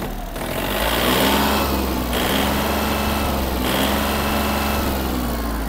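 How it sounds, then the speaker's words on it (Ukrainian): Yanmar RS-27 mini tractor engine revving up and holding a steady, busy running note with slight surges, loud and close with no talk over it. "Ось така робота двигуна."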